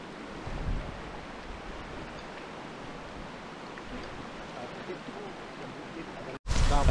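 River rushing beside a mountain campsite on a hiking trail, a steady broad flowing wash heard from nearby, briefly cut off near the end before a louder burst returns.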